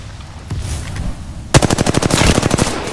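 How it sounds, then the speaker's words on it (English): Rapid bursts of automatic gunfire in Apex Legends, a steady rattling string of shots that starts abruptly after a quieter stretch of distant shooting and stays loud and close to the end. "Getting shot at."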